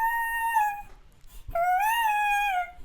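A singing voice pitched up a full octave (12 semitones) for an EDM drop vocal, heard as two sustained, thin, chipmunk-like high notes separated by a short gap, loud and close with no other sound.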